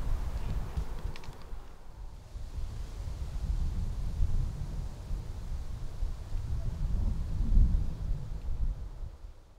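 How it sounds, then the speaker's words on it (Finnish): Low thunder rumbles continuously over Lake Inari as a storm approaches at night, a deep roll that swells and fades, louder near the end, with faint wind noise and no talk. "sieltä rupeaa ukkospilvet taas lähestymään. Hetken oli tyyntä, mutta kohta taas jytisee."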